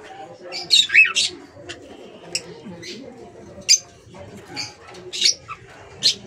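Young hatchling chicks peep and chirp in short, high bursts during banding, scattered over a few seconds close up, with faint handling noise underneath.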